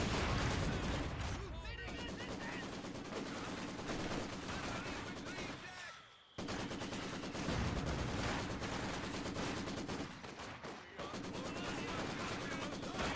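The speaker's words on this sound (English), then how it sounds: "machine gun started firing" Machine guns rattle in the WWII strategy game Company of Heroes, dense bursts of automatic fire and scattered gunshots filling the battle with short pauses between volleys, loud and continuous beneath distant battlefield noise.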